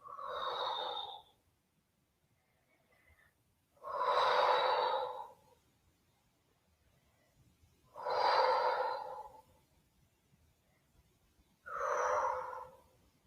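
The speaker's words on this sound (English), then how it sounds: "Full breaths." Four slow, deep breaths are taken during a breathing exercise done with spinal circling. Each is a long, soft airy rush a few seconds apart, close and clear, with silence in between.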